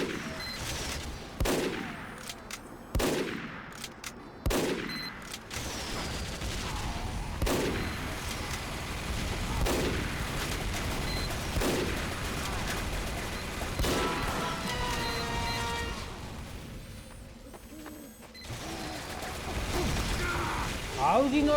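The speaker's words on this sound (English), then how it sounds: "Why is his turret going on again and again?" Rapid mechanical gunfire from a sentry turret in the video game Team Fortress 2, in repeated bursts with sharp ratcheting clatter amid other game effects, running steadily across the scene.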